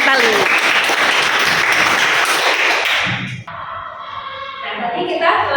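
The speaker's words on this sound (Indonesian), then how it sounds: "tepuk tangan untuk Natali." Classroom applause for a student named Natali, dense and loud for about three seconds before cutting off abruptly, leaving a quieter room with scattered noise.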